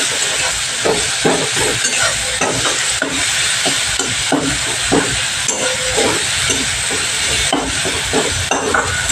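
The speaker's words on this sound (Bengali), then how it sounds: "দেখো মশলাটা আমার ভালো করে কষানো হয়ে গেছে।" Masala paste being stir-fried for a wedding-style pabda fish curry, a loud, steady hiss and sizzle with repeated scraping and stirring knocks throughout, close by and with no voices.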